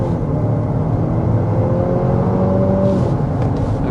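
A 2025 Nissan Murano with a 2-liter variable-compression turbocharged four-cylinder accelerating hard to 60 mph, heard from inside the cabin as a steady, loud engine drone and road roar with a faint rising tone, no talking.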